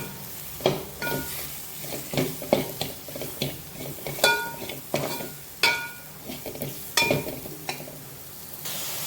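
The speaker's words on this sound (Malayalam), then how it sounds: "അതിട്ട് നല്ലോണം നമുക്ക് ആ പച്ചമണം പോകുന്ന വരെ നല്ലോണം നമുക്കിത് ഫ്രൈ ചെയ്തെടുക്കാം." Soya masala fries in a pan with a steady sizzle, broken by repeated sharp scrapes and clinks of a spoon stirring against the metal pan, close and fairly loud with no talk.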